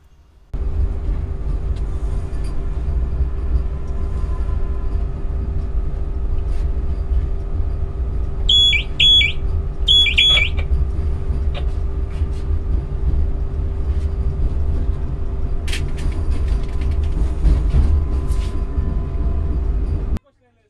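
A Secunderabad–Visakhapatnam Vande Bharat Express standing at Rajahmundry station gives off a loud, steady low electrical hum, broken by a couple of short electronic chimes and a faint rattle near the end.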